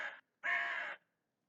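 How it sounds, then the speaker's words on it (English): A crow calls from a tree with two harsh caws, a short one followed by a longer one, clear and alone against silence. "crow in a tree."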